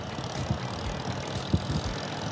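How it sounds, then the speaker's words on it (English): Motorcycle engine running at a 2022 demo-day event, a low, steady idling rumble with a couple of brief throttle blips, fairly close. "That is one hell of an engine."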